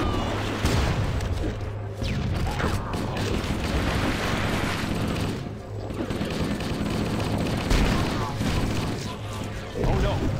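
The heart gun in the video game Cursed Halo fires in dense, rapid bursts, with booming impacts and crashes piled on top in a loud, continuous barrage of game combat.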